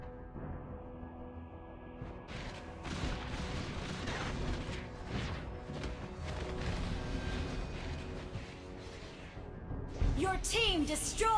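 A turret being destroyed in the Mobile Legends video game, with booming impacts and crashing effects over layered game sounds and music, ending in a bright burst of effects.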